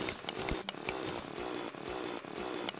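Drill mining in the video game Terraria during hardmode: a buzzing, grinding electric drill loop with repeated short chipping bursts as blocks break, steady and fairly quiet with no talk.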